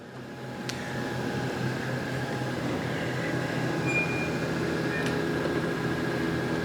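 A Brown & Sharpe 1440U universal I.D./O.D. grinder feeding down to a dead stop gives a steady, even mechanical hum with a faint high whine, running continuously at moderate level with a couple of brief clicks.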